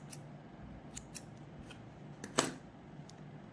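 Scissors snip through long strands of yarn while a comfort doll is made, with a few soft close clicks and one sharper cut, quiet and without talk.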